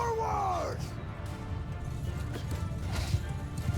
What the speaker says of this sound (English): So I'm going to go ahead and get my horse involved.